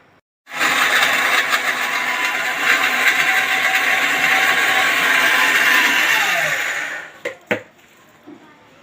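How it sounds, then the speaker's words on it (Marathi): A mixer grinder pulverises cashews, almonds, dry coconut and dry dates in one loud, steady whirring burst of about six seconds, close by, then winds down and ends with a few knocks and clatters. "माझे सगळे हे जे ड्राय इन्ग्रेडियंट्स होते म्हणजे काजू बदाम खोबरं खारीक ते सगळं मी आता ग्राइंडरमधून काढलं आहे"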